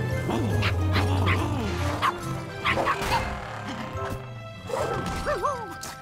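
A cartoon puppy barks and yips in a few short bursts, mixed with whimpering slides and clattering crash effects, all over a busy animated soundtrack with some talk.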